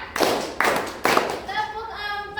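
Three sharp, loud group claps land at an even counted pace in a classroom ice-breaking game, with a voice speaking between and after them.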